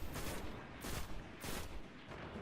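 Dead Orbit auto rifle in Destiny fires in three short bursts of rapid automatic gunfire, each burst followed by a brief pause, moderately loud and with no voices.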